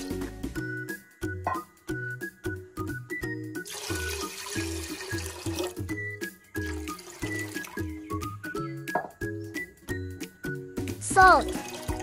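About one and a half liters of water pour into a pot of beef, cinnamon and lemongrass for pulao, a close, steady gushing stream over a rhythmic backing beat.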